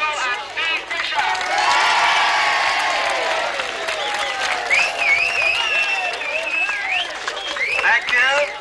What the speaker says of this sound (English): Let's have a big round of applause for the 2 gallant winners, Susie Birchall and Steve Fisher.